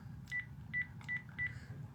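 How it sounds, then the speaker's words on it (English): Telephone keypad dialing, four short touch-tone beeps spaced evenly at about a third of a second apart over a faint low background hum, fairly quiet and with no talking. "I'm going to dial up here"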